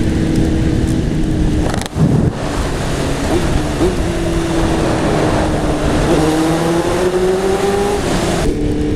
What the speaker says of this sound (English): So now it has got the full exhaust system on. It sounds a lot meaner, it makes a lot more noise.